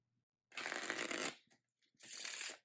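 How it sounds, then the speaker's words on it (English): Playing cards riffle in a bridge shuffle, two close bursts of fast fluttering clicks, the first longer and the second shorter after a brief gap. "the last shuffle I'll be teaching you guys how to do is a bridge"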